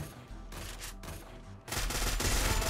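Rapid bursts of gunfire from the video game Free Fire, loud and close, with short volleys followed by a denser, heavier stretch of shooting.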